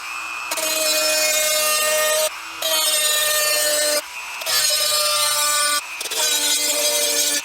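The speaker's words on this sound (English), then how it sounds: "I'm going to mark it with the Dremel in here in my office." Dremel rotary tool marking out a cutout indoors, whining loudly in four long bursts separated by short pauses, close and alone.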